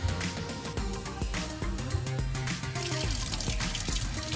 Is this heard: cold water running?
yes